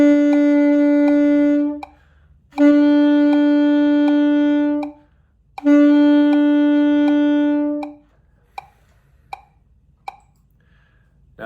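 A saxophone plays three sustained notes of about two seconds each with short gaps between them, then stops, followed by a few faint clicks and a soft intake of breath.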